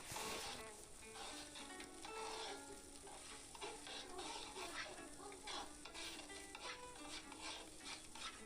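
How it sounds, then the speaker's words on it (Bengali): Rice tossed with ginger-garlic paste and chilli powder in a pan for vegetarian khichuri, a steady soft sizzle under continuous scraping stir strokes, fairly quiet and close, with no talking. "চালটাকে ভালোভাবে নেড়ে নিতে হবে যেন তলায় না লেগে যায়"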